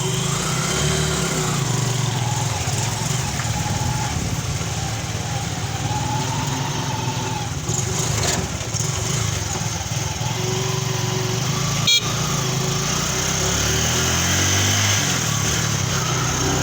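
A Bajaj CT125 motorcycle engine runs steadily throughout a road test, a continuous buzzing drone close to the microphone with slight changes in pitch and a brief click near the end.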